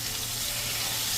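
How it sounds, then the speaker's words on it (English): Chicken pieces for butter chicken frying over medium-high flame in a pan, giving a steady, close, loud broadband sizzle throughout with no talk. "So I've fried this for 3 to 4 minutes on one side. I'm going to flip it over now."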